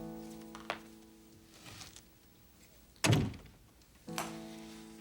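A door is shut with a solid, close thunk partway through, set among quieter room sounds and a softer knock shortly after.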